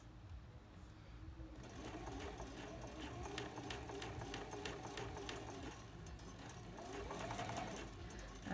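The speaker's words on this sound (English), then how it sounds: "Okay, so you can see I'm stitching right next to that seam line." Home sewing machine stitching a dress facing right beside the seam line, a steady rapid mechanical whirr and needle clatter running close and continuous with a brief pause before resuming.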